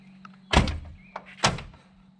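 In a racing garage, a door slams shut twice in close succession, each a heavy thunk with a short rattle, over a low steady hum in an otherwise quiet room.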